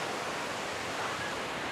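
Water sprays steadily into a closed pool at Volcano Bay water park, Universal Orlando, giving a constant broad hiss and rush like surf or a waterfall, fairly loud and unbroken throughout.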